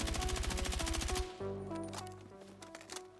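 An M433 rifle fitted with several attachments firing in Battlefield 6: a loud, rapid automatic burst of evenly spaced shots, followed by scattered shots and echoing reports that fade out.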